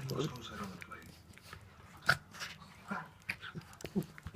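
Schnauzer dogs play and wrestle up close, with scuffling, breathy snorts, soft growls and chewing-like mouthing sounds in irregular bursts, plus a few sharper yips.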